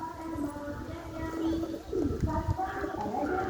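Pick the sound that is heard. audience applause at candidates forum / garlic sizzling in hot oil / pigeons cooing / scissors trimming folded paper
pigeons cooing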